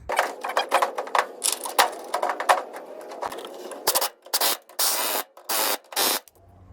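A steering gearbox is fastened into a 1967 Ford Mustang, with quick rattling ratchet clicks followed by several loud separate bursts of a power tool driving bolts, close by and with no talking.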